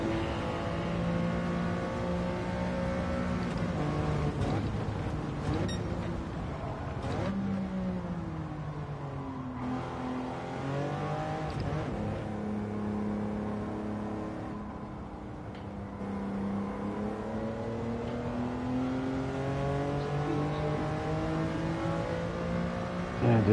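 Car engine revving in Gran Turismo 7 at the Nürburgring, a loud continuous engine note rising and falling in pitch through gear changes, with brief shifts and sustained high revs throughout.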